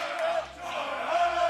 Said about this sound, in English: the crowd is starting to erupt